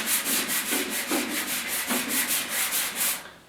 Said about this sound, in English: just go light with your 320. and it sands off quite quickly.